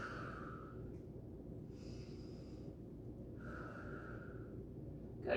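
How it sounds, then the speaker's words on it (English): Slow, deep breaths during a standing or seated stretch: a long exhale, then an inhale, then another exhale, each soft and close, over a faint steady background hum. "Nice deep breathing."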